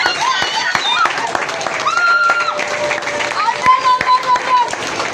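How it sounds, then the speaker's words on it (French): A church congregation claps during a revival service, uneven applause mixed with shouting and chatter, voices rising over the hand claps, fairly loud and close throughout. "Applaudissons encore pour le Seigneur Jésus."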